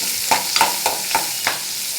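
Onions sizzle frying in oil in a pan with steady hiss, broken by about five short scraping stirs at a regular pace.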